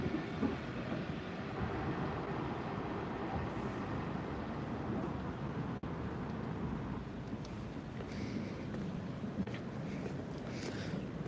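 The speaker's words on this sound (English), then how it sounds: "Local Armed Forces Aero Tram 228 for Hucknall." Nottingham Express Transit tram 228 to Hucknall, a continuous faint rumbling roll heard at a distance throughout, with a brief click midway and some light rattling near the end.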